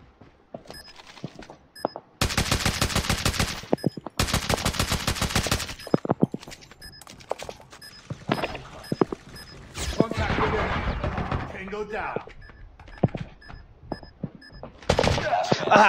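Gunfire in the mobile shooter Call of Duty Mobile, including shotgun blasts: sharp bursts and rapid automatic volleys with pauses between, loud and close, interspersed with crashes and other game sounds.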